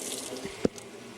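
Water poured from a cup into a bowl gives one brief, close splash over a quiet, steady watery hiss.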